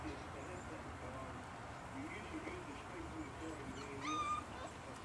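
Four-week-old puppies outdoors give a few faint, high whimpers and yips, most noticeable near the end, under steady outdoor background noise.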